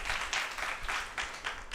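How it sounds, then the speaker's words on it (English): Conference audience applauding in steady bursts of dense clapping, moderately close, alone without talk, swelling and easing in a few waves over a couple of seconds. "let's give a big applause to all the team members"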